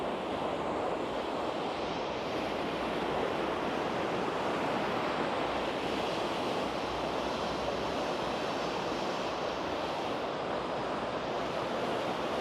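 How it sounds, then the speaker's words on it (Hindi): Fast river water rushing under strong pressure along a riverside embankment in Tashkent, a steady broadband roar that never lets up, loud and close with no voices over it. "यहाँ पे तो खुसूसन पानी का कुछ प्रेशर ज़्यादा ही है"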